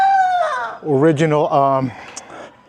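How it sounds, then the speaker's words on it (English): A rooster crows nearby, a long, loud, wavering call with a strained rising-and-falling pitch, followed by quieter background sounds. "let me show you these roosters right here"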